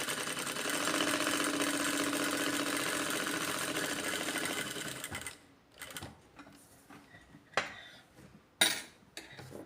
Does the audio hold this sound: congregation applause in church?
no